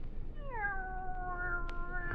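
A single drawn-out cat meow in a radio drama, rising then gliding down and holding steady, clear but fairly soft over a low background hiss, with no talk.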